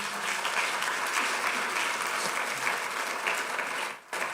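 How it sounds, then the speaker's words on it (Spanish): Congregation at a church service applauding in praise, a dense, steady burst of clapping from many hands filling the room, cutting off sharply near the end. "dale un fuerte aplauso al Señor Jesús"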